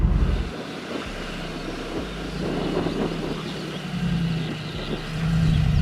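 Mercedes G63 SUV crawling off-road in low range with central, rear and front lockers engaged, a low engine rumble rising and falling with wind buffeting the microphone.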